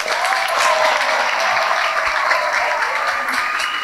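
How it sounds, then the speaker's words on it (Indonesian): Sustained applause from a large outdoor crowd at a Hari Santri ceremonial assembly in Gunungkidul, a loud, even roar of clapping that holds steady throughout. "Tepuk tangan untuk kita semuanya."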